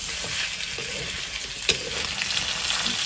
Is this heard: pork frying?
yes